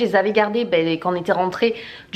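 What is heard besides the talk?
No distinct noise like a dog, phone or traffic.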